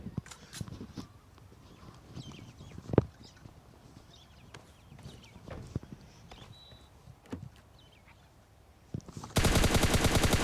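Gunfire in the PUBG Mobile Lite video game, heard as scattered sharp shots and short bursts over faint footsteps and game noise. A dense buzzing blast closes the clip.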